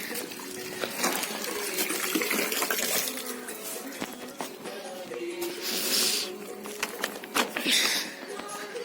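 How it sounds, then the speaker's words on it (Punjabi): Water runs steadily from a tap outdoors, a continuous splashing rush with occasional clinks, while a person talks nearby. "ਟੂਟੀ ਬੰਦ ਕਰ ਦਈਏ"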